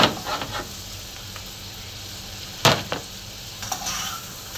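Pinakbet vegetables are stirred with salt in a hot pan, giving a steady close sizzle with a few scraping spoon strokes and one sharp clatter partway through, no voices.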